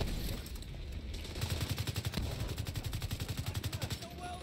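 Rapid automatic gunfire in The Division 2, a fast rhythmic burst of shots that is sustained across most of the clip, with scattered single shots before it and a voice faintly underneath.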